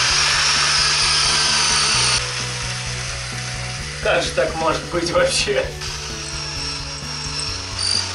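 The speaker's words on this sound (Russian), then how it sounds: "Пробуем теперь снова с другим сверлом." Power drill with a carbide masonry bit runs against brick, a steady high whine that drops in pitch partway, then a burst of scraping grinding as the bit bites, with someone speaking over it.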